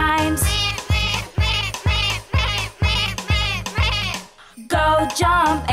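Cartoon goat bleats eight times in a row, loud and close, each cry a separate wavering call with short gaps between them, in a children's counting song.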